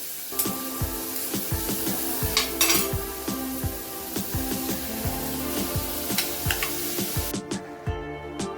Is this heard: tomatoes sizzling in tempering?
yes